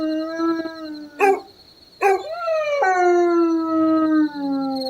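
A dog howls in long, wavering tones, broken by two sharp barks, then a sustained howl that slowly falls in pitch. Loud and close.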